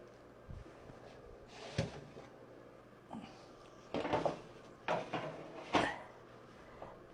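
An oven door opens and clunks during quiche baking in a quiet kitchen, with several separate knocks and thumps of metal and wood spread across the moment.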